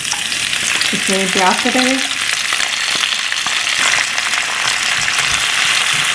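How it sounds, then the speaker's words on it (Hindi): Masala frying in a hot pan with onions, a steady broadband sizzle running throughout, loud and close, with a brief spoken remark near the start. "अभी मसाला फ्राई करने के लिए"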